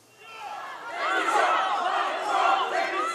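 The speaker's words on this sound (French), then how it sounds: "Emmanuel Macron a apporté son soutien aux préfets et aux fonctionnaires sous les huées de gilets jaunes." Crowd of yellow vest protesters in France booing and shouting at Emmanuel Macron, a loud mass of jeering voices swelling after a quiet start and holding steady to the end.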